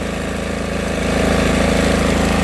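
An Ener Sol EPG 3000SE petrol generator running under load, a loud steady engine hum with a fast regular pulse, close and continuous with no speech.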